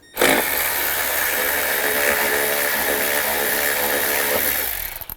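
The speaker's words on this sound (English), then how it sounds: "Take this cover off, use an 8mm socket." A powered socket tool with an 8mm socket loosens the engine cover bolts on a 2000-06 GMC Yukon, giving one continuous, loud, close mechanical whirr for about five seconds that starts and stops abruptly.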